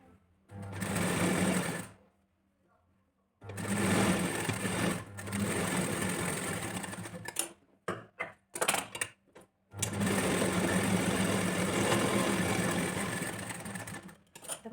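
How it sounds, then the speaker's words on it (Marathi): A sewing machine stitches a double-folded fabric strip on a blouse in loud, steady bursts, with short pauses between runs and a flurry of brief stops and starts near the middle. "त्याला डबल फोल्ड करायचे आणि खालच्या बाजूने आपल्याला याला स्टिच करून घ्यायचे"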